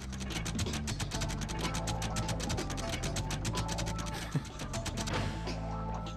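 Screw being turned with a wrench in the Ratchet and Clank 3 video game: a loud, continuous rapid mechanical ratcheting clatter with grinding gear tones throughout, and a single sharp clank near the end.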